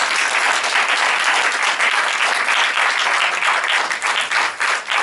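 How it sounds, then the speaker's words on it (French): Loud, sustained audience applause fills a cinema at a special screening, dense clapping continuing steadily for several seconds without a break and thinning slightly near the end. "Et je vous demande d'applaudir très, très fort et très chaleureusement Philippine Leroy-Beaulieu."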